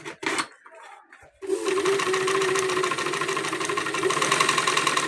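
A few brief clicks and taps, then a sewing machine motor starts and runs fast and steady, a loud, close, continuous mechanical whir.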